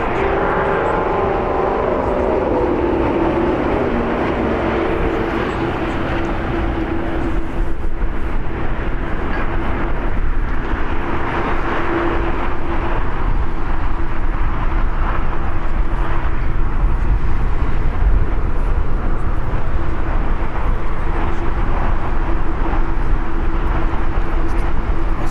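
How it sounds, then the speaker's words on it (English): A LATAM Airlines Boeing 767ER takes off at LAX, its engines producing a loud, sustained roar that swells and holds steady, with a broad rumbling tone throughout. "Taking off on the north is LATAM Airlines Flight 2479 going to LIM."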